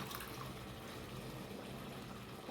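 Water pours from a tumbler into a pot of rice while making Chettinad mutton biryani, a steady, faint rushing trickle that runs without pause throughout.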